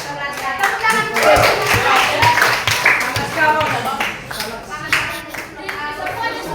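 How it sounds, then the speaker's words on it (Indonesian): A secondary school class in Indonesia claps hands together, sharp, irregular overlapping claps of a small group lasting several seconds, with a teacher's voice speaking over parts of it. "Tepuk tangan dulu."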